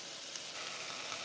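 Mirepoix frying in hot oil in a pan for a homemade soup, giving a steady, bright, close sizzle with no talking.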